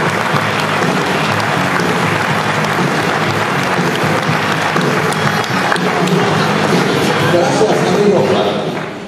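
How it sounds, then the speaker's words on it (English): Loud, sustained applause from a large audience at a corporate executive partner forum, an unbroken wash of clapping that runs the whole time, with voices mixed in. "Big round of applause"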